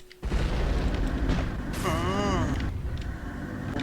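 A sudden loud boom erupts and rumbles on in the Roblox game Build A Boat, followed by a warbling siren-like tone, with voices talking over the noise.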